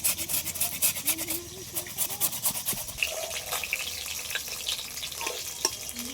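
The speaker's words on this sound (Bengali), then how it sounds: "এটা গ্রেটার দিয়ে গ্রেট করে নেবো পুরোটা।" Homegrown taro root rasps steadily against a kitchen grater in quick, scratchy back-and-forth strokes, close and moderately loud, with some faint voices and kitchen sounds behind it.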